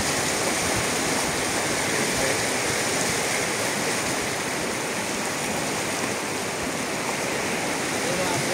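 Water rushing steadily downhill in an outdoor stream, a constant, fairly close broadband flow.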